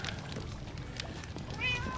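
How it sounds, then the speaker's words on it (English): A cat meows in Minecraft, a short faint call heard near the end over a dense, noisy game background of rumble and clatter, with no talk. "He's a kitty. He's a good kitty."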